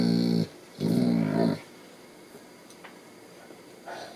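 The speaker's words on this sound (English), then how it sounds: "You're a very talkative dog." A Saint Bernard dog vocalizing with low, drawn-out growly moans, two clear close-up bursts followed by a softer third, heard alone in a quiet indoor room.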